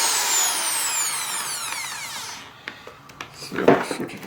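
A Makita HP1640 hammer drill spins in reverse, its whine winding down and fading before a few faint clicks and handling noises close by.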